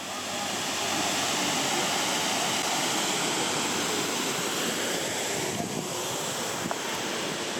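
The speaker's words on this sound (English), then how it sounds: "just here, 2 minutes from our home, is a waterfall." A waterfall inside a town in Slovakia gives a steady, loud broadband rush of falling water that continues unbroken throughout, with no voices.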